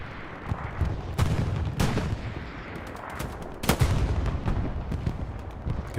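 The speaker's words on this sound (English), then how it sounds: "Explosion heard to our left." Artillery and explosions thunder across an online Hell Let Loose match on the Omaha map, heavy booms and gunfire bursts landing at irregular intervals over a constant low battlefield rumble.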